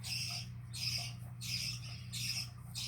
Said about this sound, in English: Oh, I can hear the baby birds.